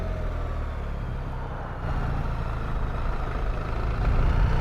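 A BMW R1300GS motorcycle with an automatic shift gearbox runs at low revs, a loud, close, continuous low engine drone that swells slightly partway through, with no talking.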